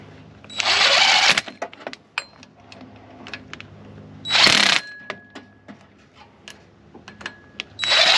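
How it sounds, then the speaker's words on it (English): Impact wrench tightening pulley bolts on a Pontiac Fiero power pulley install, three loud short bursts of rattling hammering separated by quieter clicks and handling noises. "Now I'm just going to run these up in a star pattern with my impact"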